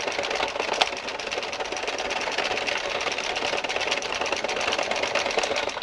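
An Addi knitting machine is hand-cranked, giving a steady, fast mechanical clatter of needles and carriage that runs evenly throughout with no talking.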